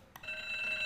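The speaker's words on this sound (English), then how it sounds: "Oh, that's the sound of a school bell ringing." A short, quiet bell-like electronic chime from the city-building video game SimCity 2000, a single sustained tone lasting under a second after a soft click.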